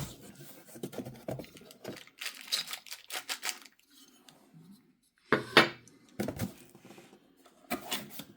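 Small screws rattle and clink against plastic packaging while porch lights are unboxed, in light scattered bursts with quiet gaps between them.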